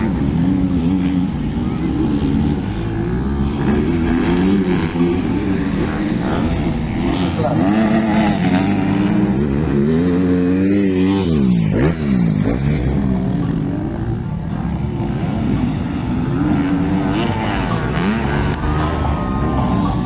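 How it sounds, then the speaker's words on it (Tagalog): 250cc racing motorcycles with dual exhausts during a race at Lantapan, Bukidnon, their engines droning and revving continuously with one machine sweeping past loudly midway, under constant commentary. "Dalawang tambotso yung motor ng idol."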